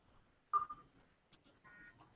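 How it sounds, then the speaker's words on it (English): A mobile phone gives a few short, thin beeps as it is switched off indoors before a talk, the tones faint and spaced out in a quiet room. "Let me turn my phone off."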